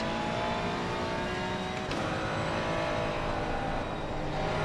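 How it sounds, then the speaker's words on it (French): Ferrari 488 GT race car engine in Assetto Corsa Competizione, a dense, steady high-revving roar with a brief gear-shift dip midway, loud and continuous from start to end with no voices. "on se rapproche tout doucement. Une Ferrari 488."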